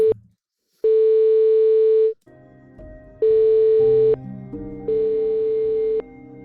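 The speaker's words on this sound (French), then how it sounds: "J'ai mis moins fort, hein, la sonnerie, la tonalité." A telephone line's steady dial tone plays in several long, even stretches broken by brief gaps and lower shifting tones, heard close through the handset with no voices over it.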